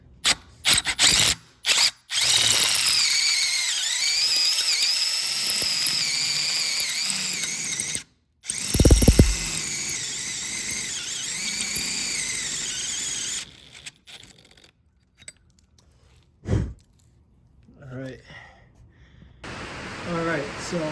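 A handheld power drill opens up a hole during a spark plug non-fouler fix on a car exhaust, whining steadily for several seconds at close range, then stopping and restarting in short bursts with brief talk between.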